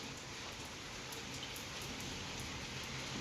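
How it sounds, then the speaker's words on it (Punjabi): Steady, dense wind-driven rain hissing over a surface, a constant wash of noise without breaks, fairly faint and even throughout. "ਮੀਂਹ ਦੇਖ ਲਓ ਕਿੰਨਾ ਸ਼ੁਰੂ ਹੋ ਗਿਆ ਹਵਾ ਨਾਲ ਬਾਛੜਾ ਵਾਲਾ ਮੀਂਹ ਆ ਹੈ"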